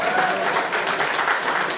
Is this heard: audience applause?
yes